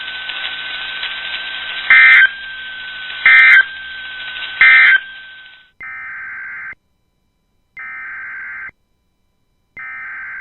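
NOAA Weather Radio broadcast with data-burst-style bursts over a sustained tone, then a loud warbling alert tone in repeated evenly spaced pulses with silent gaps.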